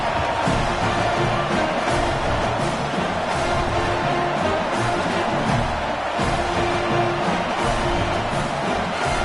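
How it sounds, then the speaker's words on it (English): A home football crowd roars after a touchdown, a dense, sustained wall of stadium cheering heard at a distance, steady and loud throughout with no distinct voices. "And the home crowd here is unhinged."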